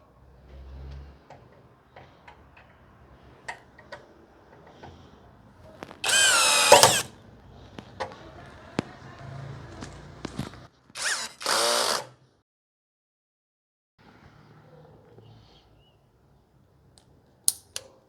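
A Hanabi 16V cordless drill set to torque level 2 drives a screw in two short, loud whirring bursts, separated by quiet stretches with faint clicks and handling noises.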